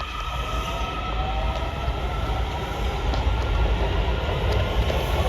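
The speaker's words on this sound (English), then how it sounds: "There's the metro train." A metro train passes at Alexandria, Virginia, with a loud, continuous rumble of wheels and rails, faint high squeals and clicks running through it and no voices.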